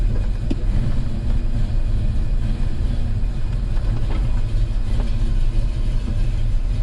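A 1970 Chevrolet El Camino with a brake fault being driven down the road, its engine a steady low rumble that stays close and constant throughout, with no voices.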